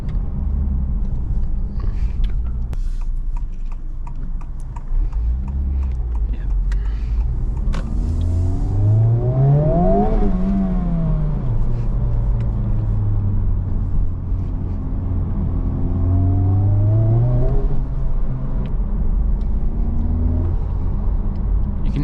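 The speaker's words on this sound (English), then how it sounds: "you can hear the blow off quite significantly" A Honda Civic Type R FL5 engine with a Spoon Sports intake filter revs up and falls back in repeated rises, with a turbo blow-off whoosh after the throttle lifts, heard from inside the car over a steady rumble.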